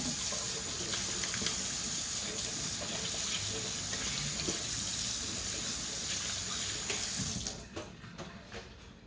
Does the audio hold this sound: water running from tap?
yes